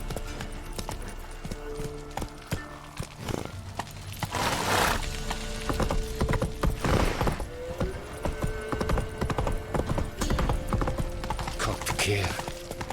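Horse hooves galloping in The Witcher 3: Wild Hunt, rhythmic clip-clop on the ground mixed with game ambience, a brief vocal exclamation and other scattered in-game sounds.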